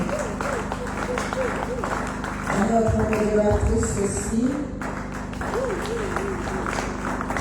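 A congregation at a Sunday church service applauds and cheers as the pastor is asked to stand, with steady clapping and crowd noise underneath while a presenter speaks over it in French.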